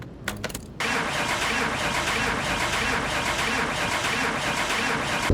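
A car engine cranks in Car Mechanic Simulator 2021, with a few sharp clicks and a brief starter whir before it catches and settles into a steady, loud, close idle that runs to the end.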